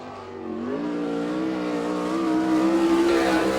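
A sprint car, number 63, takes a qualifying lap at Abbottstown, Pennsylvania, in an All Star Circuit of Champions event, its engine climbing from a rumble to a loud, steady, rising wail alone on the track.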